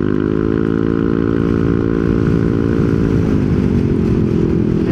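A Yamaha NMAX scooter fitted with a Honda center spring accelerates hard, its engine note loud and close and rising steadily with a droning buzz throughout.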